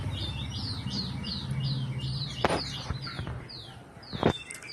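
Bulbul chirps in a repeated series of short, bright, descending notes, fairly close and clear, over a low steady background hum, with a couple of sharp clicks near the end.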